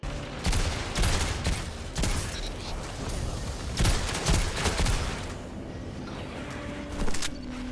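A teammate's gunfire in Destiny 2 during a Trials of Osiris match on the map Burnout, with bursts of rapid shots at a moderate distance, separated by short gaps and layered over game ambience.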